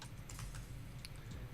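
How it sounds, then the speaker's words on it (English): Quick, light tapping on a computer keyboard, a rapid irregular run of soft key clicks heard close up and alone, at low volume. "you can click, and you can type in makers"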